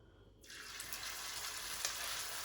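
Spoonfuls of vegetable fritter batter hitting hot sunflower oil in a pan, starting as a sudden bright, steady sizzle after a quiet moment and crackling on continuously at close range.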